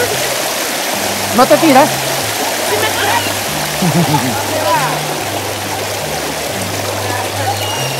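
The Ripoll river at Castellar del Vallès rushes steadily in a loud, continuous wash of flowing water, with people talking and calling out over it and a low hum underneath.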